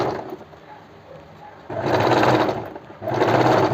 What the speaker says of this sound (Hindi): उसी टेक्निक से हम सेकंड वाली सिलाई लगाएंगे